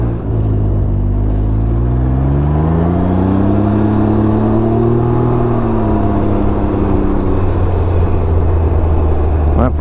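A 2021 Can-Am Ryker 900 three-wheeler engine accelerates close by, its tone sweeping up and back down through a loud, steady roar and then settling to a lower drone.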